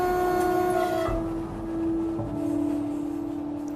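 A passenger train in Norway rolls along its rails with a steady tonal hum and sustained horn-like tones that shift pitch partway through, fairly quiet and continuous, with no voices.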